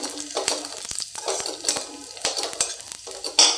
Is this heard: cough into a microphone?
no